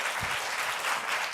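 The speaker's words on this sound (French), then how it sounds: "Très bien, on va les applaudir." An audience applauds steadily and fairly loudly after a group performance at a televised religious singing contest finale, with a dense, even clatter of many hands and no talking.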